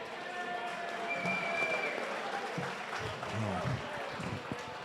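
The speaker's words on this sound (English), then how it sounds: "we need to give Case and Amanda a round of applause right now" Round of applause at the 14th Annual Factory Direct Elite Female event in West Lafayette, Indiana: a steady crowd clapping that fills the room, with talk and cheering underneath throughout.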